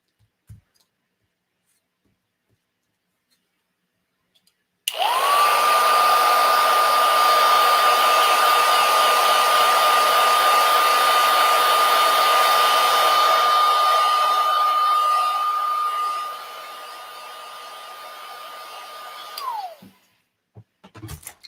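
A heat tool blows hot air over a distress-spray craft project, a loud, steady whirring hiss that runs unbroken for about fifteen seconds and then clicks off, with no talking over it.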